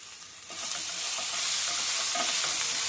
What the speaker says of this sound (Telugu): ఉల్లిపాయలు మగ్గిన తర్వాత 1 స్పూను పసుపు వేసుకోవాలి